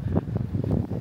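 Cold wind gusting across a beach, a steady buffeting rumble close on the microphone with no talk.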